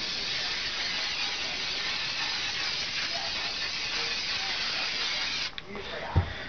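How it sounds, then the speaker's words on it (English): Spray adhesive from an aerosol can hisses in a long, steady, close blast for several seconds, then cuts off abruptly, followed by a faint clack. "I got me a spray adhesive. All I'm going to do is go up high and spray a little section right here."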